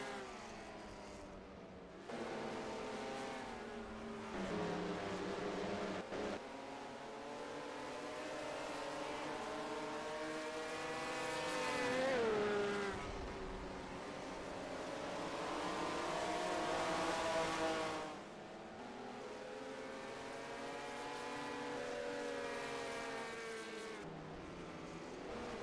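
Race cars pulling out of pit lane at Indianapolis Raceway Park during a winter racing series: several engines rev up and shift through gears in rising and falling waves, some passing nearby, with a constant roar of the field in the background.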